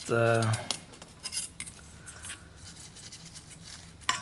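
Metal clutch discs from a VW T4 visco clutch clink and ring together as they are washed, with a bright ringing clatter at the start followed by scattered lighter taps and scrapes.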